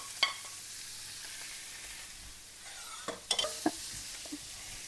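Pork sausages frying in a pan give a faint, steady sizzle, broken by a few soft clinks and scrapes of utensils stirring.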